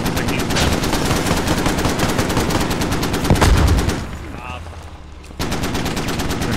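Heavy automatic cannon fire from a Stryker armored vehicle in the military shooter Squad, with rapid bursts hammering close and loud, a brief lull near the end, then firing resumes.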